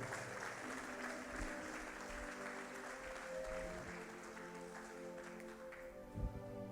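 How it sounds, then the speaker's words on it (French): A church congregation in Paris applauds and cheers the Lord during a prophetic healing service, sustained dense clapping with crowd voices and music tones underneath, a louder burst near the end. "Acclamons le Seigneur"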